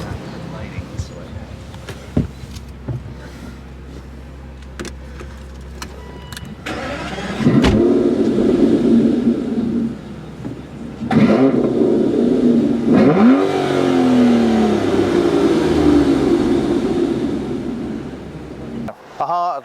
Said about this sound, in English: The heart of the car is our naturally aspirated AM29 V12 engine.